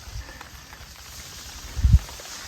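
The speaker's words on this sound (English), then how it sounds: "Oh, beautiful, beautiful rain." Steady rain falls on banana plants in Thailand as a soft, even hiss, with a few heavier low thuds of drops near the end.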